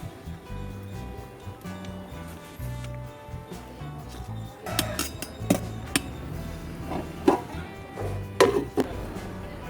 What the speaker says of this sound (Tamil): அதனால அடிக்கடி இது மாதிரி கரண்டி வச்சு கிண்டி விடலாம்